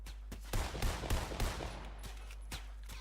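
Sniper and gunfire shots in the video game Fortnite, several sharp cracks in quick succession early on, then a few more spaced bursts, loud and close over a low steady hum.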